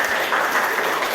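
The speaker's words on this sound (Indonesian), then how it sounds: "Berikan aplaus untuk kelompok 1." A group gives a short burst of applause for a classroom work group, a dense wash of clapping that fills the whole moment.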